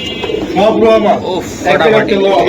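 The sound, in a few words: white pigeons cooing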